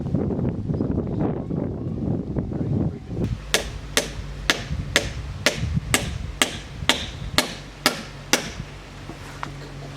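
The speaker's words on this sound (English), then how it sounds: "I'm going to use a hammer to hold it" Rumbling movement gives way to about a dozen sharp hammer strikes driving a nail into a wooden laminate beam, evenly spaced and close, each ringing briefly.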